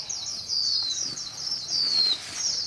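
Small white-eye birds call near bird-trapping nets in a series of faint, high, thin chirps that repeat quickly and sit over a quiet outdoor background.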